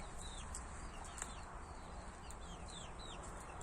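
Chickens and young chicks about two and a half months old on a farm, with thin high chirps and peeps repeating over a steady noisy background, faint and somewhat distant.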